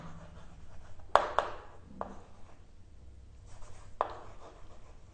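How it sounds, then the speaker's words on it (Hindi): A marker or chalk writes in a different colour on a board during a physics lesson, leaving a few sharp taps and short scratchy strokes, close and fairly faint, with no talk. "इसको हम अलग कलर से लिखेंगे"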